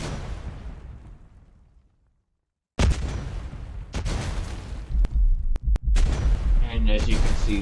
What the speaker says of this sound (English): as you can see, the bombs are dropping